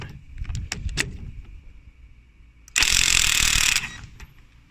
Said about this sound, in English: I'm just going to waz that off with the impact gun